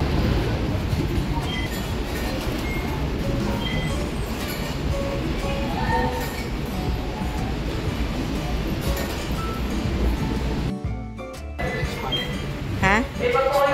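A light rail train on the LRT line in Caloocan, Philippines rumbles steadily along the tracks, its constant low drone filling the space, with a brief clattering shift near the end.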